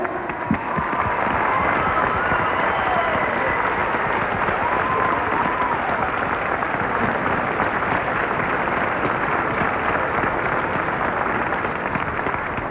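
Audience applause for volunteers at a 1989 Opération Enfant Soleil telethon, a dense steady clapping and crowd roar filling the whole stretch at even loudness, with faint voices mixed underneath.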